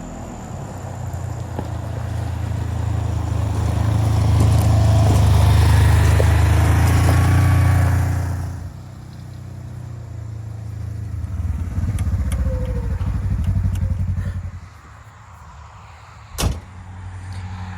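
A Polaris General utility vehicle engine runs with a loud, steady rumble for several seconds, then drops to a quieter idle with a brief knock near the end.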